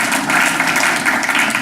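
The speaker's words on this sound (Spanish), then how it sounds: "¿Cuánto dan un fuerte aplauso al que vive?" Congregation applause at a Spanish-language church service, a dense, steady wash of many hands clapping together, loud and close, with no talk over it.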